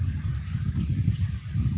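Low, throaty quacking and honking from several birds overlaps continuously, fairly close and steady, with no talking.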